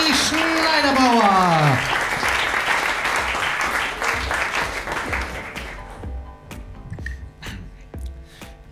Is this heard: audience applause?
yes